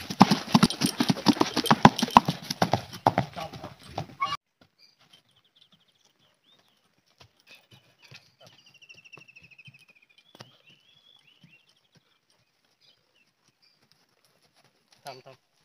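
Rapid clip-clop of a ridden horse's hooves for the first few seconds, close and fairly loud, then near silence with a few faint scattered sounds.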